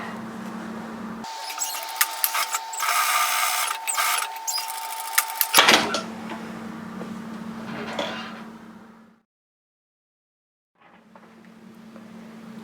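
A sewing machine stitches a messenger bag seam in steady motorized runs, pausing briefly between passes, then falls silent before starting again; close and fairly loud, with no talking.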